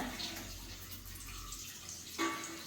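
Coconut oil being poured into a cooking pan, a soft, steady liquid trickle heard alone for a few seconds, with a slight change in tone near the end.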